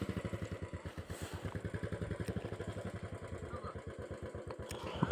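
A motorcycle runs on an off-road village track, its single engine throbbing in a steady, rapid chug of even firing pulses close by, with a sharp bump or clunk right at the end.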